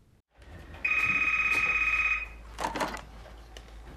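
A telephone rings once in a film trailer, a loud, steady electronic bell trill lasting just over a second, followed by a brief rustle as the receiver is picked up.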